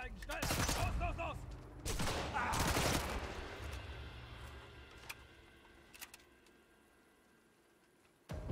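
Suppressed subsonic rifle shots in the shooter Sniper Elite 5 land as a few sharp, fairly loud reports early on, followed by fainter mechanical clicks and ticks.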